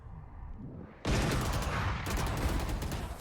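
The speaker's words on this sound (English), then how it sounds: "the jumping headshot from Dinks" Gunfire during a competitive Valorant esports match: after a quieter stretch, a loud burst of rapid automatic shots erupts and continues dense and close, with a brief dip before resuming.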